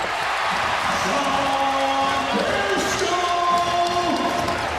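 Basketball arena crowd cheering and roaring during a college game as a 1,000-point milestone is announced, a loud steady crowd swell with whoops, faint sneaker squeaks and a commentator's voice over the top.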